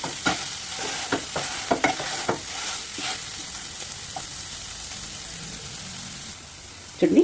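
Cooked lentils for bhel puri are mashed in a pot with a run of quick, close scraping and squishing strokes, then a quieter stretch before a final burst of mashing.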